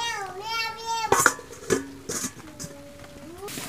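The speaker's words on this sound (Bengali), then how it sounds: "এখন জিরো বাটাটাকে ভালো করে মিক্স করে নেবে" Cumin paste stirred into a pan of patal (pointed gourd) and shrimp curry, with a few clinking scrapes of a utensil against the pan, heard under a speaking voice.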